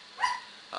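A female pet dog lets out a brief high-pitched yip, followed moments later by the start of another, heard in a quiet room from a little distance.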